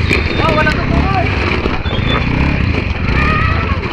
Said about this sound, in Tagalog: Ang weak naman ng mga motor nyo.